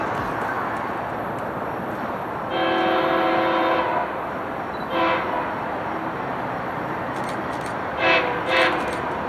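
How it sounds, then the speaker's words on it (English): A northbound FrontRunner commuter train at Farmington station sounds its horn in one long blast, then two short toots, loud and close over steady rumbling. "Still trying to figure out why they blew its horn"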